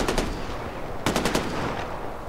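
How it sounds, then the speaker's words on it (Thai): Rapid bursts of automatic gunfire from the video game Far Cry 4 crackle over a dense, loud battle background, with one quick volley early and a stronger rattling burst midway. "เอาแล้วนะยิงมีการยิงเกิดขึ้นตอนนี้"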